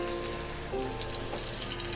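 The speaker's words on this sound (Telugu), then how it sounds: "మీడియం ఫ్లేమ్లో నిదానంగా వేయించుకుని" Sweet corn balls fry slowly in oil over a medium flame, giving a soft, steady sizzle and faint bubbling that runs unbroken for the whole stretch.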